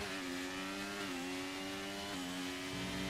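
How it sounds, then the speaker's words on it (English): Formula 1 car engines in the F1 23 racing game, on the Bahrain circuit, give a loud sustained whine. The pitch dips and rises again as the cars shift through the gears, with no talking over it. "The sound of these engines."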